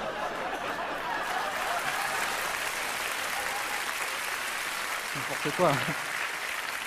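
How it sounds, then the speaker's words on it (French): Cabaret audience applauding during a ventriloquist act, a continuous moderate wash of clapping with scattered laughter, and a voice cutting in briefly near the end. "Ils sont contents. Ils applaudissent"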